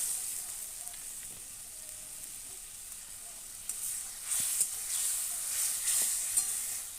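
Mango pieces sautéed with ginger, cumin and turmeric for a bata fish curry: a low, constant sizzle in the pan, broken in the second half by several distinct spatula scrapes and stirs.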